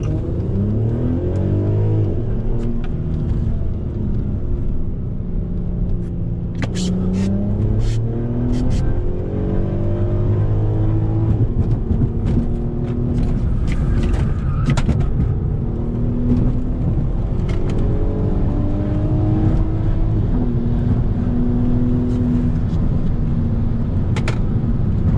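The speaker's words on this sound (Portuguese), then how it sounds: "E vamos que vamos aí no rolê de Passat." Volkswagen Passat VR6 with 4x4, DSG gearbox, performance upgrades, Porsche Cayenne brakes and RS3 suspension, heard from inside as a loud, continuous engine drone rising and falling through gear changes and accelerations, with occasional clicks and brief background voices.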